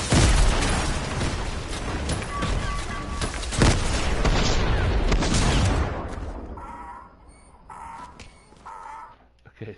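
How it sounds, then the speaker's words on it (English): Grenade launcher explosions in a Fortnite match, a loud dense barrage of booms and bursts that fades to quieter scattered game sounds, with a voice talking underneath. "Little grenade launcher battle here."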